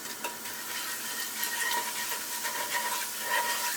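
Cumin seeds sizzle steadily in hot sunflower oil in a pan, a dense continuous crackle and hiss with faint stirring scrapes, close and alone without talk.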